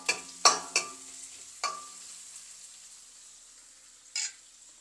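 Tomato paste with salt sautés in a pan, giving a quiet background sizzle punctuated by several sharp scraping stirs early on and another near the end, with no voices.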